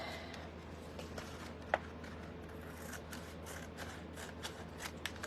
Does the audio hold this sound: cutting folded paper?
yes